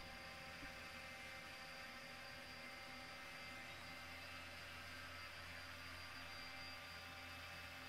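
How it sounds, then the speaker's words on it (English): UAV drone flying in Arma 3, a steady buzzing hum with a low rotor drone holding constant and faint throughout, no talking. "drone going urban again"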